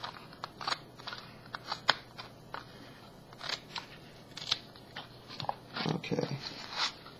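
Scissors snip and cut through duct tape while a purse is being made, giving a string of close, crisp clicks and crackles with a rustling scrape of tape toward the end.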